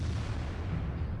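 Jagdpanzer E-100 tank destroyer cannon booming in World of Tanks, a heavy low rumble sustained through the moment without clear separate shots, loud and close.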